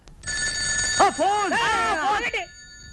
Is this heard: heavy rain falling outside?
no